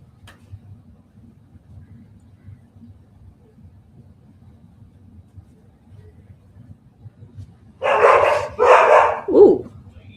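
A dog barks frantically: after a long stretch of quiet low rumble, three loud, close barks come in quick succession near the end.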